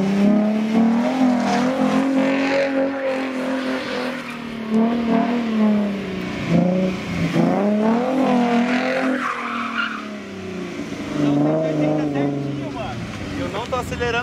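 A Mustang or Audi TT revs hard in a street drag race, a loud sustained engine roar with rising and falling pitch and tire noise close by for the whole stretch.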